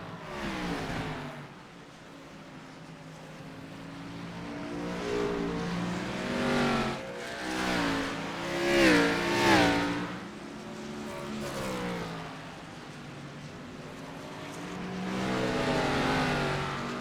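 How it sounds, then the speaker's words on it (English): Race cars in an iRacing sim race at the Charlotte Roval roar continuously through the clip, engines revving up and down in rising and falling pitch sweeps as cars battle closely, with no talk over them. "let you listen to the sounds of the Roval"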